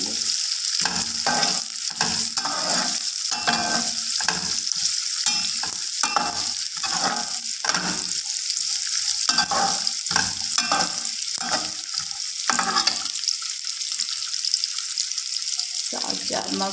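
Ingredients roasting in a pan over a low flame for sheer khurma: a continuous bright hiss of frying with rhythmic stirring scrapes, close by, and faint murmur-like bursts underneath.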